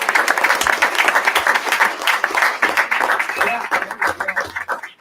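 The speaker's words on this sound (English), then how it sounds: "Can I have one more huge round of applause for the Superintendent's Honor Roll here?" A school board meeting audience applauds the Superintendent's Honor Roll, a sustained round of dense clapping from a crowd indoors that tapers off near the end.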